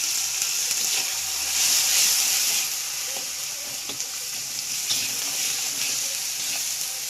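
Tomato with salt and turmeric frying and being stirred in a pan for a vegetarian ghugni, a steady broadband sizzle with occasional scraping stirs, close and continuous with no talking.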